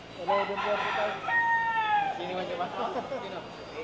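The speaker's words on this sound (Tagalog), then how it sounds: "manok lang yun" A rooster crows once nearby, a long rising and falling call over a second and a half, with people chatting in Tagalog around it.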